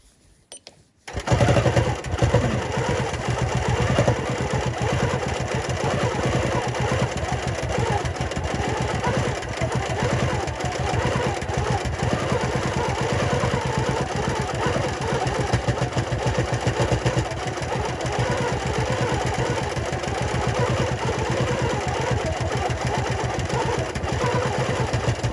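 Sewing machine stitching a tight meander stipple on a quilt, starting after a moment of quiet and then running loud and close as a fast continuous mechanical whir with rapid needle clatter for over twenty seconds.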